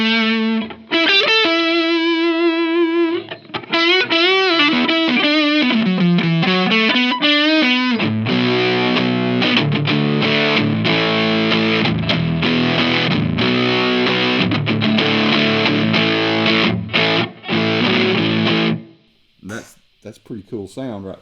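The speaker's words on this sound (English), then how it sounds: "And then I've got my distortion set up over here" Electric guitar played through a distorted amp model, starting with bent and sliding sustained notes, then heavy saturated chords ringing steadily and loud before cutting out near the end, where brief speech follows.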